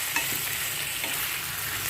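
Sliced onions and potatoes fry in hot oil over medium heat, a steady close sizzle with soft scraping as the pan is stirred, no voices over it.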